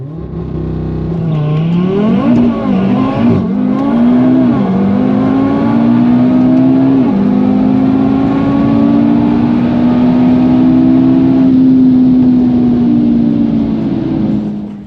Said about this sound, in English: Alex from Underground Performance driving the TTRS behind me